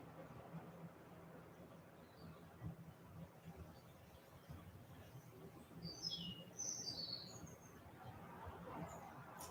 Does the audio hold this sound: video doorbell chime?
no